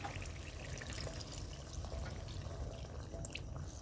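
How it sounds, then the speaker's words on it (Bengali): Water poured into chicken curry cooking in a pot gives a faint, steady trickling and bubbling wash, low and continuous with no talk. "এখন পরিমাণ মতো একটু জল দিয়ে দেব"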